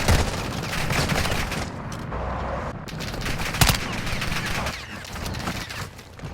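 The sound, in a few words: gunfire in Call of Duty video game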